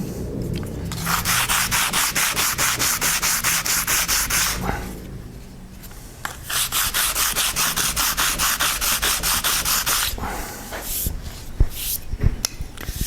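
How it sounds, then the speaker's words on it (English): Rhythmic back-and-forth sanding on a guitar neck to remove glue, steady close scraping strokes in regular bursts, a brief pause midway, then more strokes and a few light knocks at the end. "in a minute, I'll be ready to sand that down"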